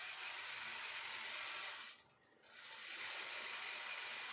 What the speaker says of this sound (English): Now you can see how it's quilting.